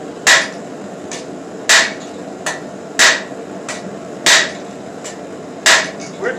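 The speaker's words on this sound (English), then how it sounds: "With hard blows." Heavy blacksmith hammer blows draw out and taper a bar of hot steel on an anvil, five hard ringing strikes about every 1.3 seconds with lighter taps between, close and clear with no talking.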